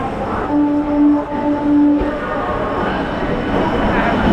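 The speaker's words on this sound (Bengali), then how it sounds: "দেখতে পাচ্ছেন এই ট্রেন প্রবেশ করছে" A crowded local train on the Howrah to Goghat line pulls into Howrah station with a loud steady rumble, a brief sustained tonal squeal or horn early on, over dense platform noise.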